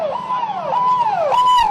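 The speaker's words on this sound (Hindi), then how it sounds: "घटनास्थल में दौड़ती एम्बुलेंस व फायर ब्रिगेड की गाड़ियां" Emergency vehicle sirens from ambulances and fire brigade trucks rushing to an incident in Bhopal, one loud wailing siren sweeping up and down in repeated cycles, close and continuous.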